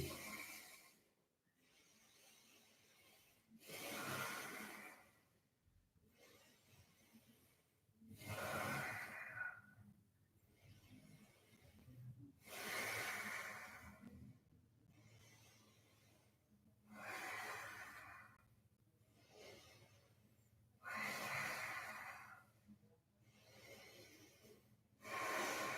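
Yoga class participants breathing while holding plank pose, slow deep inhales and exhales repeating in a steady rhythm of broad breathy bursts every few seconds, close and moderately soft with no talking.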